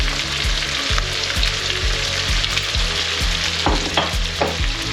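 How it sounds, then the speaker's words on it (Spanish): Onion and garlic sautéing in a pan for a chicken dish, a loud steady sizzle with occasional stirring scrapes and crackles, close up, with no talk. "pochar la cebolla y el ajo"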